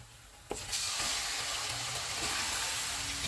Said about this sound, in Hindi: प्याज फ्राई हो गए, इसमें अदरक और लहसुन का पेस्ट डालेंगे, चिकन डालेंगे।